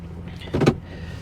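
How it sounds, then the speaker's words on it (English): A car's electric suspension motor whirs briefly as the car lowers back down, a short close mechanical hum rising and fading over a quiet background. "and the car lowers back down."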